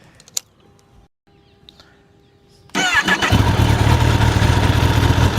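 A 1000cc motorcycle on its stock exhaust starts after a few faint clicks, then settles into a loud, close, throbbing idle that continues to the end.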